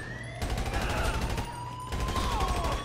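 Rapid automatic gunfire rattles in GTA V, bursts of machine-gun fire over a droning siren, fairly close with short pauses between volleys.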